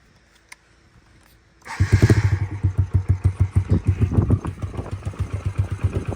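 Yamaha TTR50 pit bike after a carburetor rebuild starting up with a burst, then idling with a near, loud, steady rapid chugging after a quiet moment with a single click.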